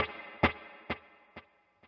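Sustained electric guitar chord rings with a soft reverb wash while delayed repeats pulse at an even pace, gradually decaying.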